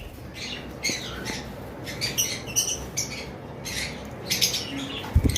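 Lutino Fischer's lovebirds on a bird farm squawking and chirping close by in shrill overlapping bursts over a steady background of other birds.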